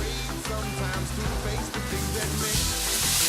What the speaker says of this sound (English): what we've got is your mushroom and your steak in your fry pan